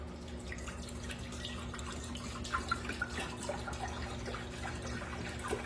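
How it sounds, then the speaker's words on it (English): Apple cider pours into a slow cooker, a soft, continuous trickle and splash of liquid with a few brighter drips, close and fairly quiet over a low background hum. "I'm just going to pour that into my crock pot"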